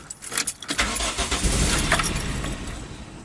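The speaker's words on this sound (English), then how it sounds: "the car started and then it just died" A car engine cranks and catches with a loud rising roar, runs rough for a couple of seconds and then dies after the fuel pump cuts off, with a faint jingle of keys at the start.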